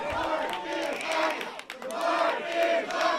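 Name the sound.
crowd chanting at a wrestling match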